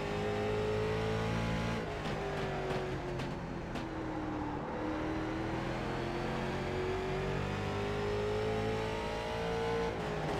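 Late model race car engines in iRacing at the Bullring, droning loudly and steadily with pitch rising and falling as they accelerate and lift, several cars running close together, no voices.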